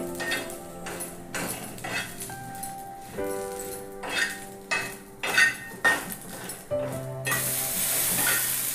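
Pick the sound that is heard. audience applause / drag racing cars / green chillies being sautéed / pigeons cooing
green chillies being sautéed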